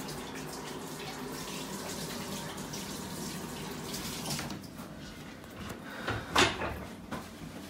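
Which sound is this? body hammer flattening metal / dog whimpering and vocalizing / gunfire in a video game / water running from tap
water running from tap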